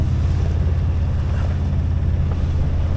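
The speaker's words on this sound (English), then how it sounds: "This is now double the forecasted wind speed of 14 knots." Strong wind, about double a forecast 14 knots, roars over a sailboat with waves washing around the hull, a constant close, loud rushing that fills the whole span with no voices.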